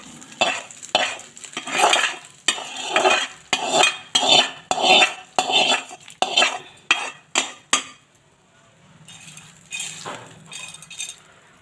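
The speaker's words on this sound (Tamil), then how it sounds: "இப்போ இந்த கலவையை நம்ம சாதத்தில் சேர்த்துக்கலாம். நம்ம சாதத்தில் இதை அப்படியே கொட்டிடலாம்." Fried mint mixture being stirred into rice for mint rice, a series of rhythmic metal spoon scrapes and clinks against a vessel, close and fairly loud, pausing near the end before a few softer strokes.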